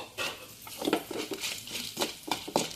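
A spoon scrapes and clinks in a pan as urad dal, chana dal and dried chillies are stirred, with a quick run of close metallic strokes and no talking.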